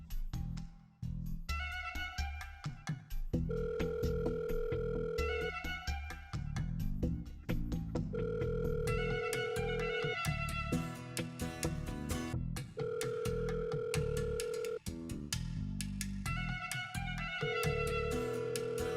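A phone ringtone plays repeatedly in a looping melodic pattern, ringing on and on without being answered.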